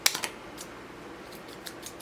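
Ordinary household scissors snip through the B and E guitar strings, a few sharp metallic clicks near the start followed by fainter scattered snips in a quiet room.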